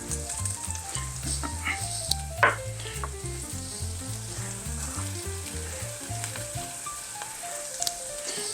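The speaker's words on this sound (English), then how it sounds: "into a pot, I got some olive oil going, and I'm going to drop in the garlic" Garlic and onion sizzle steadily in olive oil in a pot, with occasional stirring clicks and scrapes over the soft, continuous frying hiss, heard close and fairly quiet.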